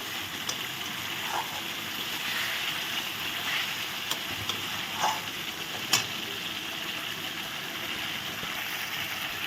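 Spice masala being stir-fried in a pan makes a soft, continuous sizzle, with a few faint scraping clicks from stirring scattered through.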